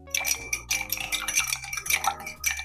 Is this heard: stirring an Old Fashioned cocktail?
yes